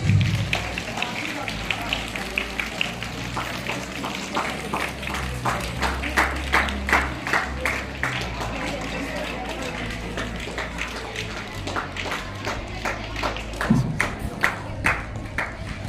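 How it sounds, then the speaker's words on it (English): Audience at a school Christmas celebration clapping their hands in a steady, busy patter throughout, with a voice speaking over it. "Clap your hands"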